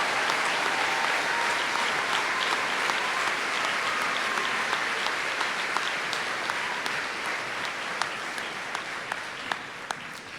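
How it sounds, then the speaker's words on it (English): A sustained round of applause from a large audience at a high school graduation commencement, dense even clapping that stays loud for the whole stretch and tapers only slightly near the end. "Let's give them a round of applause for this outstanding academic achievement."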